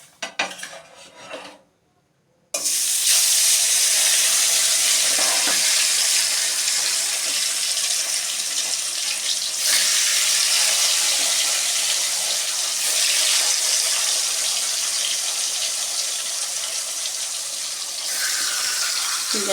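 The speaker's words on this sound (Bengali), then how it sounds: "আমি মাছটাকে খুব কড়া করে ভাজছি।" Cut pieces of rohu fish frying hard in hot oil in a pan, a loud continuous sizzle and crackle after a short quiet start, with scraping and clinks of a spatula on the pan.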